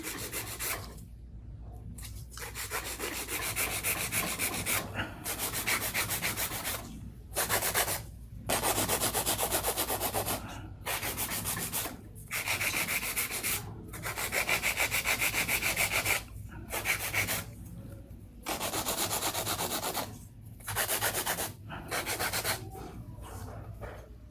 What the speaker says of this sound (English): I'm gonna do a little bit of hand filing before I do my cuticle work and top coat